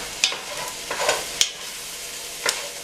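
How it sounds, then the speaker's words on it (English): Vegetables for turkey chili sizzle in a pan while a spoon stirs them in a few brief scraping strokes, close and fairly loud, with steady frying hiss underneath and no talking. "let's give it a stir."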